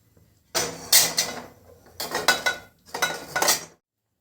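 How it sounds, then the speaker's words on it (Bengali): A kadai is set down on a stove in a home kitchen while snacks are being fried: three separate bursts of metallic clanking and scraping, close and fairly sharp, with quiet gaps between them. "এবার আমি কড়াইটা বসিয়ে দিই"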